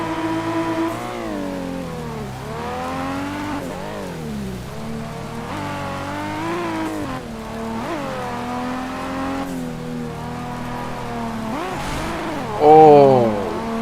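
A Nissan GTR and a Mazda RX-7 FD race in a street racing game, their engines droning and rising and falling through gear changes in a steady, loud whine with no talk.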